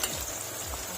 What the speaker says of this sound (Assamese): এতিয়া এই হাঁহৰ তেলৰে পিঁয়াজটো ভাজি কৰি আছো